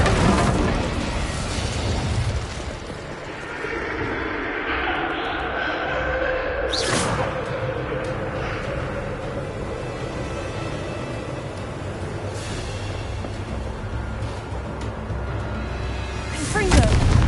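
Incendio fire spell cast in Hogwarts Legacy, a sustained roaring blast with booming impacts over a long stretch, a voice calling out the spell amid continuous game ambience.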